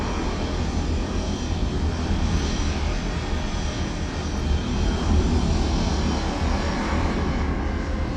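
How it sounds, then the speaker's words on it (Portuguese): Steady, loud roar of a Delta Airbus A330-300's jet engines in flight, a continuous broadband drone filling the cabin with no voices. "Vamos ver aqui como está o estado do motor."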